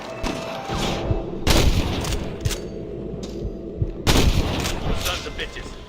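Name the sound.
gunfire in the video game Red Dead Redemption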